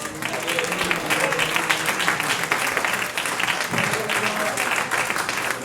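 Church congregation applauding: dense, sustained clapping from many hands fills the space evenly for several seconds, with faint voices and background music beneath.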